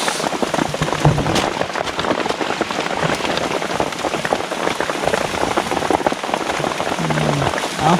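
Heavy rain pours steadily on a mountain forest at night, a dense, unbroken hiss of drops striking leaves and ground that stays loud and even throughout, with no voices.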